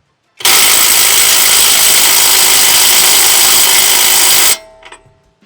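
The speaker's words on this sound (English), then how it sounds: "So we're going to see if this small compact impact can take it off." A compact impact wrench hammers at a hard lower shock bolt in one continuous loud burst of about four seconds, close up, then stops abruptly with faint clatter afterward.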